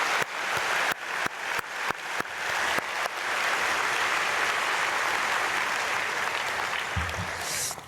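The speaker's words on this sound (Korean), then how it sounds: "우리 박수로 축복하겠습니다" A congregation at a Saturday dawn prayer service before Easter at Myungsung Church breaks into applause, starting with a few scattered claps that swell into steady, dense clapping filling the hall.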